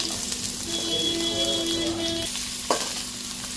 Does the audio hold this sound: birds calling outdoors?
no